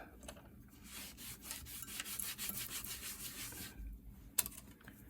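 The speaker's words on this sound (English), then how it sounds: "Clean up some of that rust off the mat." A small brush or tool scrubs rust off a metal mat during repair of a water-damaged Nintendo 2DS console, giving close, quiet rapid back-and-forth scratching strokes that stop briefly near the end.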